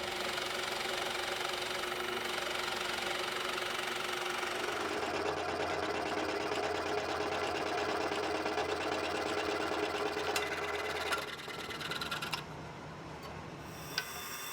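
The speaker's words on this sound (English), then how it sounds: "then cut it out on the scroll saw." Motorized scroll saw cutting through maple, a steady buzzing drone with fast rhythmic ticking that runs near and loud, easing and thinning near the end.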